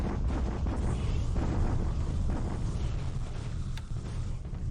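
A naval bombardment in War in the Pacific rumbles as dense, low explosive booms rolling together into a continuous heavy roar, loud and without talk.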